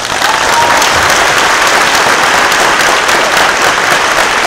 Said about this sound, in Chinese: 来给他们一个掌声好不好？